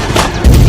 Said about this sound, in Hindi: तभी वो वहाँ पर खुद को बॉम्ब से उड़ा लेता है।